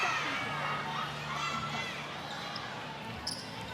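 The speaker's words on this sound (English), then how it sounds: "listen to the crowd in the back of play." Crowd noise in a netball arena during an Adelaide Thunderbirds match, a loud, steady roar of spectators with scattered shouts and a court commentator talking over it.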